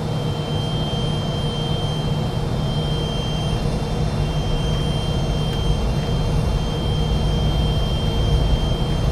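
Fokker 28 jet engines at set power in a flight simulator, a loud, constant roar with a steady whine on top, unbroken for the whole stretch.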